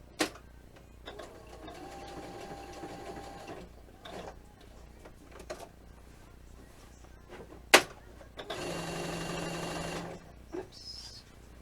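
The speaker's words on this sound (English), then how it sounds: "So I'm using a blanket stitch. I'm doing an extra, and let me sew these letters on." A sewing machine runs a blanket stitch to sew fabric letters onto a GameCube logo piece, whirring in two longer runs with shorter bursts and sharp mechanical clicks between them.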